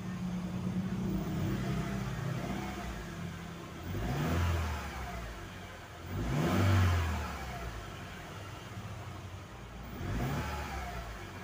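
A second-generation Honda CR-V engine, warm and worried about overheating, is revved three times while stationary: three distinct swells rising over a steady idle, close by and fairly loud, with no talking.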